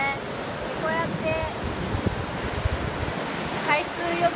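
Ocean waves at Miura beach rolling in with a steady, rushing wash of surf and some wind, and someone speaking faintly at moments.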